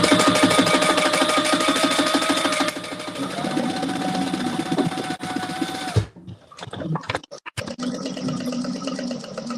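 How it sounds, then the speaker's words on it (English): A sewing machine stitching down both sides of a leather accordion wallet, a steady fast mechanical whir that briefly stops and clatters before running again. "So just sew down both sides and do a really good back stitch at the beginning and at the end."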